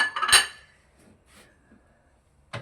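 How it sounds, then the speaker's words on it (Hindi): A metal lid set onto a stainless pressure cooker holding masoor dal, salt and water: a sharp, loud clatter at the start, then quiet, and a second short metallic knock at the end. "ढकना लगा देना कुकर को।"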